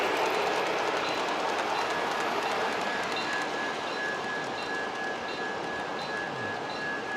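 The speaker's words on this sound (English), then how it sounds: "You can hear the rumble of the trains as they go by." Large-scale model trains rumble past at an indoor train show beside an engine shed, a steady loud rolling roar with a faint high whine running throughout.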